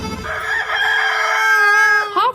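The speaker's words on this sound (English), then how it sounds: "Go get the chicken. Go get the rooster." A rooster crows loudly and close by, one long drawn-out call ending in a brief rising squawk, with faint noise behind it.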